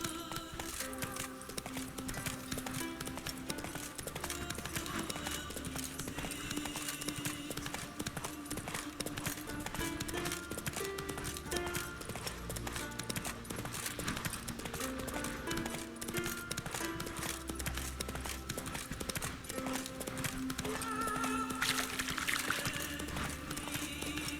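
Roach, a horse in The Witcher 3, gallops on Skellige Island with a steady, rapid clip-clop of hooves that stays close and continuous, occasional whinnies and ambient game sounds mixed in.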